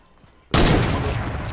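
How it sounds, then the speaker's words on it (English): Loud burst of gunfire in a battle royale video game, breaking in suddenly after a quiet moment and continuing as a dense, close rattle of rapid shots. "He's shooting somebody."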